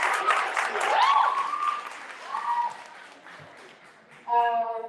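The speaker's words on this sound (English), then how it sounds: "Give her a big round of applause" Audience applause at a youth day celebration event, a burst of clapping under overlapping voices that fades as a speaker begins, with a brief tonal sound near the end.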